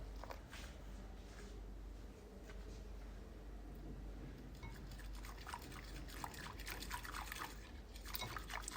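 Ground flaxseed with salt, black pepper and a cup of water is stirred in a bowl for Ethiopian telba fitfit, giving faint, continuous wet sloshing and dripping sounds up close, quiet and without talk.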